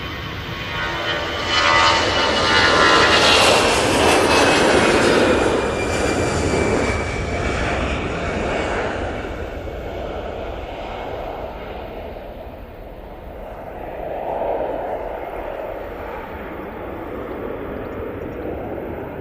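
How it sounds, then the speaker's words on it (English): An EasyJet airliner rolls for take-off at Manchester Airport, its engine roar loud and broad, swelling early and then slowly fading, with a brief renewed surge toward the end. "EasyJet now on the roll."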